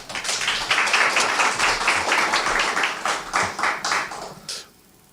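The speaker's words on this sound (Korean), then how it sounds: "박수로 환영합니다" Several people clap together in a warm burst of applause welcoming a speaker at a church service, thinning into a few scattered claps before stopping.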